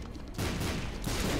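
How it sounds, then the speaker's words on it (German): Bursts of rapid, crunchy gunfire from an enemy Husk in The Binding of Isaac: Rebirth, two loud volleys of game shots close together over a busy game soundtrack. "Er ist einfach so ein Husk, der ein paar Schüsse schießt und stirbt"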